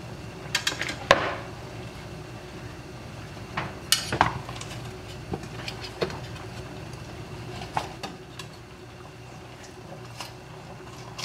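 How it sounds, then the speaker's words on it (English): A knife cuts cabbage leaves away from the core in a home kitchen, producing scattered sharp clicks and taps against a dish or board over a faint steady background hum. "So I'm just slicing it by the core to break the leaves apart."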